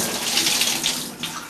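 Hot water runs from a loose shower head in a motel bathroom, a loud, continuous close hiss of spray with no voices.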